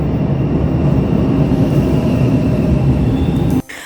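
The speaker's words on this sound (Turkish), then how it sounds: "Tren geldi." A train arriving in Cinque Terre, Italy, rumbles loudly and steadily close by, a continuous heavy roar of rolling wagons that cuts off abruptly near the end.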